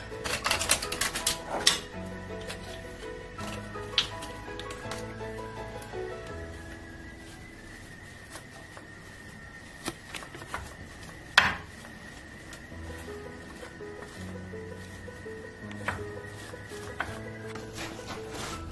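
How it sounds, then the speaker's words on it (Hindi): A spoon scrapes and clatters against a bowl as room-temperature butter is worked together with red chilli powder, irregular clinks and taps scattered through a long stretch of quiet stirring. "रूम टेम्परेचर पर बटर। अब इसे हम अच्छी तरह से मिक्स कर लेंगे।"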